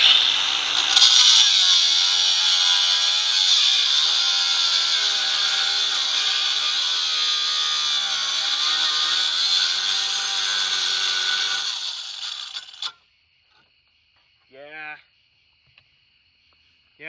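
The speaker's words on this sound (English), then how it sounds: "it's cutting through it all right, but it's binding in the process." A Spyder multi-material cut-off wheel grinds loudly through a pipe with a harsh, steady, binding screech for about twelve seconds, then stops abruptly, leaving near silence with a couple of brief faint clicks.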